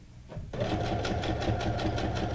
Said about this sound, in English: I am sewing on my SQ9185 Brother sewing machine, better known as the Whippersnapper.